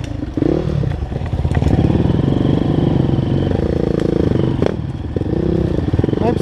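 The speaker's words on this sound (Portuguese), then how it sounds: "Boa galera de moto aí agora." Dirt bike engines, including a Yamaha YZ, rev and buzz close by with clattering and thumps along a rough trail, while people talk over the motor noise.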